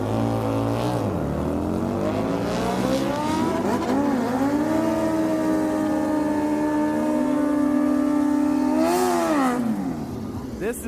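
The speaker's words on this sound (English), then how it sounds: "We got some sport bikes versus a little Harley here about to go off." Sport bikes and a small Harley motorcycle launch in a drag race, engines revving up through rising, shifting pitch sweeps, loud and fairly close, with a second surge of revving near the end.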